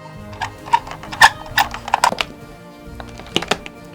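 A small foley prop built to mimic a little metal door gives off a scattered run of light, sharp metallic clicks and rattles. It is close-miked in a quiet room, with no speech.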